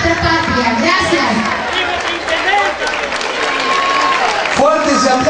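A crowd at a public event in Villa Dolores applauds and cheers the mayor, with loud, continuous clapping and shouting mixed with a voice over a loudspeaker.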